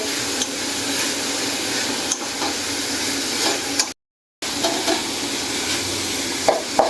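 Bottle gourd for halwa being roasted and stirred in a pan, a steady sizzling hiss with scraping stirs throughout, briefly cut out midway, with no talking.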